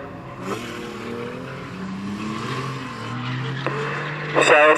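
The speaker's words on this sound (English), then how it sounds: "So we're underway then with the drift rods for their final" Drift rod race cars roar around the Standlake Arena oval, engines droning and shifting pitch as they race past, with a commentator's voice running over the loud, continuous motor noise.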